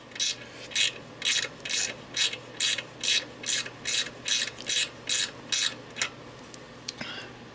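A ratchet wrench backs a self-locking nut off an idler pulley on a homemade go-kart. About a dozen evenly spaced, close, sharp clicking strokes repeat in a steady rhythm, followed by a few lighter ticks, with no voices.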